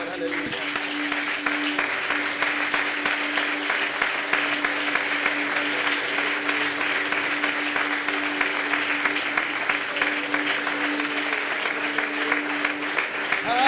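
A church congregation claps loudly for the Lord during a Spanish-language revival service, a dense continuous roar of hands held at even strength for over ten seconds, with a steady sustained tone and voices running underneath.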